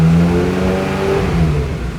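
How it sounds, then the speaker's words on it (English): Ferrari F355 engine with an idle fault, revved up and held steady, loud, close and continuous with a throaty drone throughout. "Bring the revs up."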